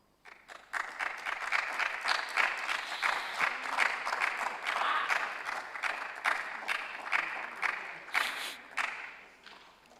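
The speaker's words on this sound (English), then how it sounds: "Please, let's keep clapping for them." An audience at a university business quiz contest applauds as the contestants walk on stage, with sustained, lively clapping from a fairly large crowd that swells and ebbs over several seconds.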